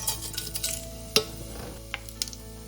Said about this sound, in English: We need 3 tablespoons of cooking oil. To this we add whole spices.